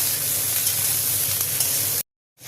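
Vegetables sizzle and crackle as they fry in a pan while being stirred, a bright steady hiss with small scraping bursts, stopping abruptly near the end.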